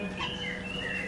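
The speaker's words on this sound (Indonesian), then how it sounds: "Sangkar burung, itu ada burungnya." A small caged bird at a traditional Balinese-style house chirps faintly, with thin tweets over a steady hum of background ambience.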